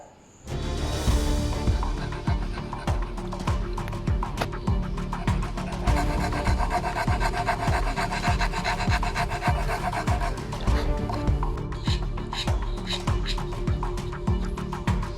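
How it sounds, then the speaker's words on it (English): Hand sanding or rasping out the blade cavity inside a wooden scabbard for a San Mai knife: rapid, steady back-and-forth scraping strokes, close and continuous, with no voices. "Sanding in the cavity for this blade into this wooden scabbard"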